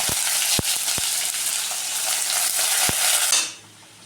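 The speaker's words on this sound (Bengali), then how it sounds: "এবার আমি পেঁয়াজ কুচিগুলো দিয়ে দিচ্ছি।" Chopped onions fry in a pan with a loud continuous sizzle, a few sharp spatula taps on the metal, before the sizzling drops away near the end.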